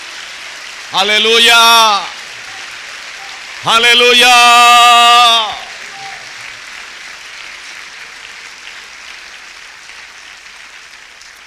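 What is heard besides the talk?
congregation applauding in church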